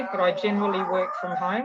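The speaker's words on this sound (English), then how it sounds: "That's the dog." A dog howls in the background of a home setting, a long wavering howl running under a woman's speech throughout.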